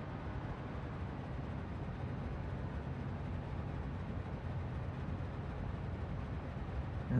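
Steady low rumble and rolling noise of trains running in the video game Satisfactory, continuous and even for the whole stretch, with no talk over it.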